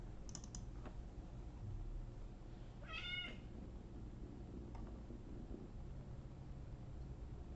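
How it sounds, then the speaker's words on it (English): A cat meow recorded as a sound effect for a cute point-and-click game, a short rising-falling mew heard once near the middle over faint room noise, with a few soft keyboard taps earlier. "And my last sound was a cat sound effect."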